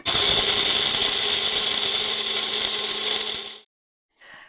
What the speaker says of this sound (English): We're going to stick these in the blender.